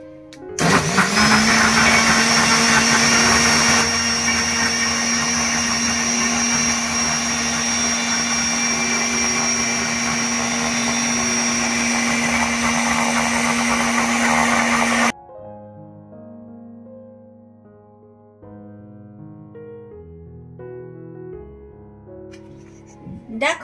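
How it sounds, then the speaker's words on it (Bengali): A kitchen mixer grinder runs loud and close, with a steady high whine and roar as it blends oats into a smooth smoothie paste. The motor then cuts off and quiet sounds follow. "এটাকে আমি মিক্সিতে জাস্ট একটা স্মুথ পেস্ট বানিয়ে নেব।"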